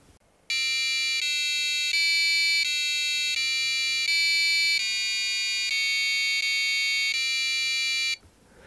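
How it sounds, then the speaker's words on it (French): A harsh Arduino-driven electronic buzzer plays a simple piano piece as sustained square-wave tones, changing pitch note by note, loud and unaccompanied for about eight seconds. "je vais tenter de jouer un morceau de piano avec Arduino"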